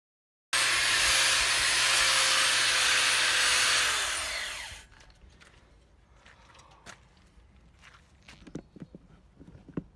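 An angle grinder works on an anvil, a loud, close, high-pitched whine held for about four seconds before spinning down, followed by quieter scattered clinks and taps.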